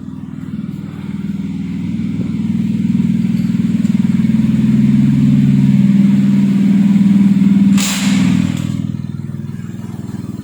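Red Perodua Kancil fitted with a turbo starts up and revs, a loud close rumbling engine that swells and holds, then dips briefly with a sharp hiss before settling back.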